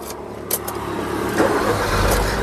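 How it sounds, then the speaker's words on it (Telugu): A 2013 Maruti Suzuki Swift VXI car engine cranks and starts in a single try with a short starter whir, then settles into a steady low idle rumble heard close by. "సింగిల్ సెల్ఫ్లో కార్ స్టార్ట్ అవుతుంది"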